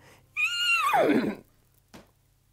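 A white horse neighs once in a fairy-tale setting, a loud, clear whinny that falls in pitch over about a second, followed by a faint soft knock.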